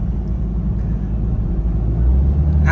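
A Ford Ranger T6 pickup fitted with an electronic throttle controller accelerates in sport mode, a loud steady low engine drone and road rumble from inside the cab that swells slightly toward the end.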